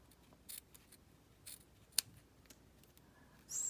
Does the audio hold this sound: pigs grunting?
no